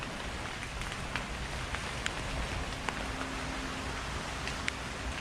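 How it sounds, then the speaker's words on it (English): Steady rain falls on Seven Mile Beach, Grand Cayman, on an afternoon near a beachfront hotel: a constant hiss of drops on surfaces with scattered sharper drips, fairly quiet and unbroken, with no talk. "The rain be falling."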